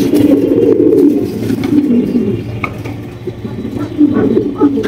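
Shaking pigeons, one red indigo and one black, coo in low, rolling phrases that repeat steadily at close range, with faint background noise and little else.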